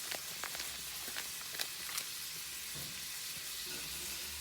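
Plugra butter melting and sizzling in a pan, a steady close crackle with scattered sharper pops.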